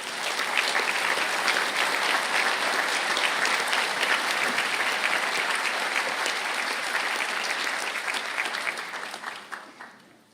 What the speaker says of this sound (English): I ask the graduates of the Postgraduate Diploma in Business and Accounting to stand for a round of applause.